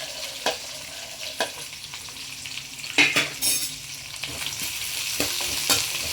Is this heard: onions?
yes